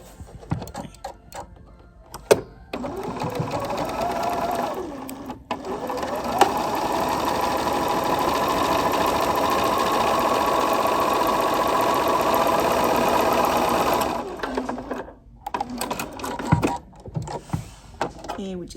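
A sewing machine stitches triangle quilt pieces for a quilt block, running in short bursts at first and then in a long steady close whir for about eight seconds before stopping, with talk between the stretches of stitching.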